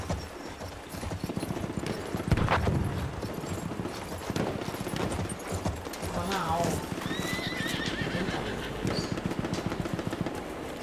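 Horses gallop with steady clip-clop hoofbeats and repeated neighs in the World War I shooter game Battlefield 1, over continuous battle noise, with a voice talking underneath.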